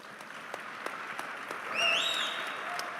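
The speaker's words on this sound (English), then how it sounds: "these gentlemen all deserve a big, big round of applause for that" A large conference audience applauds at a live Bitcoin event, steady dense clapping throughout, with a brief whistle rising above it partway through.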